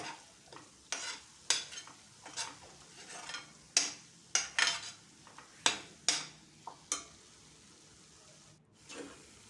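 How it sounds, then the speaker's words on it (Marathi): Ground chickpeas with spices are stirred in a pan, giving a series of sharp scraping clinks from the utensil at an irregular pace over a faint sizzle, close and quiet with no voices. "वाटलेले चणे टाकल्यानंतर छान मिक्स करून घ्यायचं"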